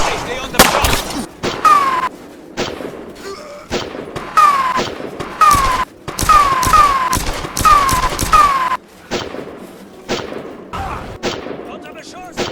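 Gunfire in a Blender animation: repeated bursts of sharp shots in clusters, loud and close, with short pauses between volleys and voices shouting in between.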